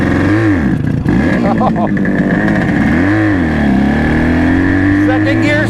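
A project motorcycle revs hard and pulls away in a second-gear start, its engine pitch swooping up and down through loud, close throttle blips, with a brief exclamation from someone nearby.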